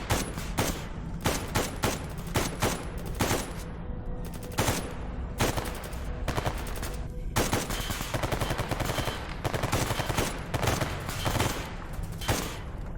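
Bursts of automatic gunfire from AI companions in the video game STALKER Anomaly, rapid loud volleys and fusillades repeating across the whole stretch with short gaps between bursts, no talk.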